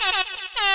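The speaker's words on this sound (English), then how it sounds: "we'll go ahead and let him have a little air horn." An air horn sounds two loud, blaring blasts, cut by a brief dip in the middle. No one speaks.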